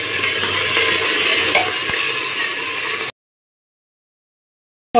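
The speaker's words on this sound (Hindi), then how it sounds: "इसमें डाला जीरा और सारी सब्जियाँ इसमें ऐड करूँगी अब, और इनको भूनूंगी अच्छे से।" Mixed vegetables with cumin seeds sautéing in a pan, a close, even sizzle with a stirring knock, cutting off abruptly after about three seconds into silence.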